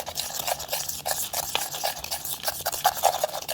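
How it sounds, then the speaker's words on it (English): Apple pie cookie sprinkle mixture stirred in a bowl, a steady soft gritty scraping and swishing that continues without pause, close and fairly quiet. "I'm just gonna mix it around in here"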